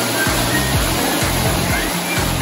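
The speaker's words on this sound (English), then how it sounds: "It's like a waterfall." Steady loud rush of falling water from a waterfall seen on a spring break outing, continuous and close, with low rumbling pulses underneath throughout.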